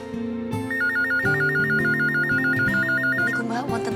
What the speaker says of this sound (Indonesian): Niku Mbak, wonten telepon.